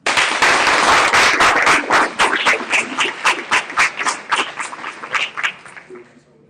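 A conference audience applauds to welcome expert panelists, starting as dense, loud clapping and thinning into scattered individual claps before fading out.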